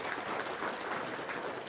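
Quiet, steady applause from an audience, a soft continuous wash of clapping heard at a distance with no break.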